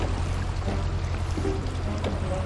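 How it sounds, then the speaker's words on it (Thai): Lake water draining away rapidly in a cartoon, a steady rushing, pouring wash at moderate level, heard alone without speech. "ระดับน้ำกำลังลดลงอย่างรวดเร็ว"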